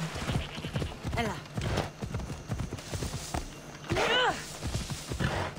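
Horse hooves clip-clopping at a walking pace in Assassin's Creed Odyssey, a steady rhythmic patter under someone talking, with a brief whinny-like call near the end.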